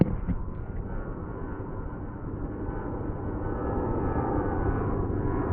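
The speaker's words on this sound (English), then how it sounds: "Sorry for the airplane." A propeller airplane passes overhead during a nighttime outdoor test of a Nitecore GP3 action-camera light, its steady engine drone sustained and fairly loud, slowly swelling toward the end with no voices.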